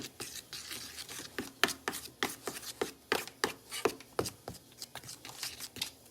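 A spoon stirs powdered sugar into pumped Osteo Max liquid horse supplement in a bowl, making soft, quiet, repeated scraping and rubbing strokes in an uneven rhythm close by.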